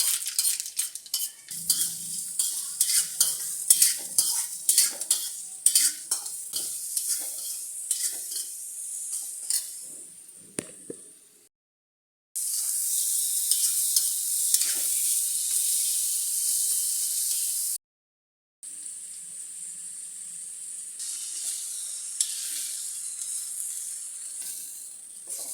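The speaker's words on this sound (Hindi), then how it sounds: "तो अब इसमें डालूँगी मैं करी पत्ता, राई डाल दिया है मैंने, राई और करी पत्ते।" Curry leaves and mustard seeds sizzle in a hot kadhai with a steady frying hiss, broken by two brief silent gaps, while crackles and spoon scrapes come early on; no one speaks.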